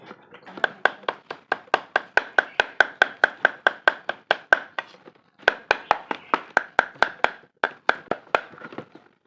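Mustard greens being chopped by hand on a board: a fast, steady run of sharp knife thunks, a brief pause, then another run of chops, close and clear with no talk.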